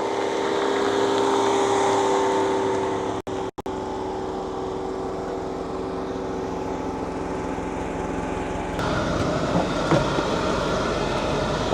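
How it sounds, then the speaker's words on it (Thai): The engine of a Mercedes-Benz W201 190E 2.0 sedan runs with a steady, fairly loud mechanical drone that grows slightly rougher and louder near the end, with no one speaking. "เครื่อง K7 แต่ก็สตาร์ทไม่ยากนะครับ"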